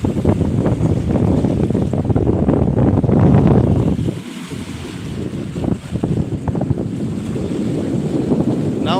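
Wind buffeting the microphone over choppy water on a boat trip, with waves slapping and rushing near the hull; loud and steady throughout, easing briefly midway before building again.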